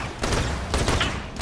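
Gunfire fills a Borderlands: The Pre-Sequel firefight as a loud, dense, continuous roar of overlapping shots and blasts, with sharper bursts cutting through.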